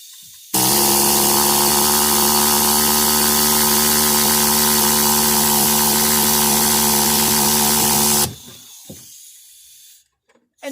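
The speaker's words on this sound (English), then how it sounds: "This is a pneumatic riveter." Pneumatic riveter running in a loud, steady air-driven whine for about eight seconds as it tries to pull a rivet on a Buick Rendezvous door handle, then cutting off to quiet handling noise.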